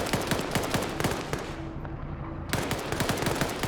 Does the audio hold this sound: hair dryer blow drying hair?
no